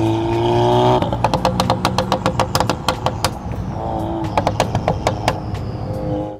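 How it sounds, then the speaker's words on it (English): VW MK7 or Audi 8V MQB car with an IE crackle tune revs, then lifts off into a rapid run of sharp exhaust pops and crackles, loud and close, with a second burst after a brief rev. "left you with an exciting and more naturally occurring exhaust crackle"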